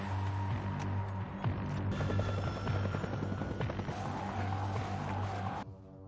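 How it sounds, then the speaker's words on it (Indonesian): A helicopter drones steadily with a heavy, throbbing rotor hum and mechanical rattling, staying loud throughout before cutting off abruptly near the end. "tiba-tiba terdengar helikopter milik Darkland memaksa mereka berlari untuk menyelamatkan diri"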